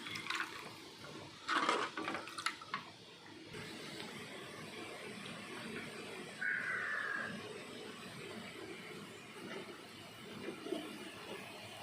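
A pot of water simmering with a soft, steady bubbling hiss before fish is added for curry, with a few brief clinks of utensils early on.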